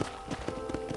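Quick rhythmic clip-clop of horse hooves trotting at a ranch in the video game Red Dead Redemption, close and clear, over a light background.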